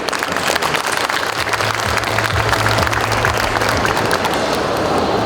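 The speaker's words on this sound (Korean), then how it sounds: "다시 한번 힘찬 박수로" A festival crowd applauds after an address by the Seoul mayor, dense steady clapping throughout with a faint low hum beneath.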